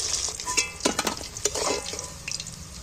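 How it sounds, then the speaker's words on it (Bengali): Pieces of fish fry and sizzle in hot oil for a spicy fish curry, a steady close crackle broken by scraping stirs and small clinks of a utensil. "এবার বাকি মাছগুলো তেলের মধ্যে তুলে দিচ্ছি।"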